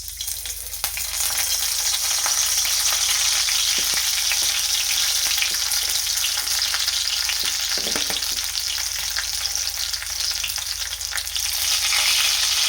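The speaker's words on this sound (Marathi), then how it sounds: "आता भेंडी आहे आपल्याला ह्याच्यामध्ये सोडायची." Okra fries in hot oil in a wok, a loud, dense, continuous sizzle with scattered small pops and crackles heard close up, sustained without a break and with no voices.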